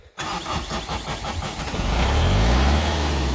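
A diesel tractor engine, run dry of fuel, cranks with a rapid rhythmic chugging for over a second, then catches and settles into a loud, steady low rumble close by.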